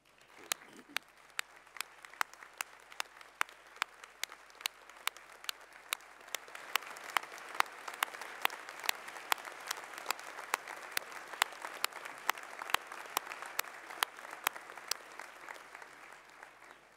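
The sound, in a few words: graduation audience applause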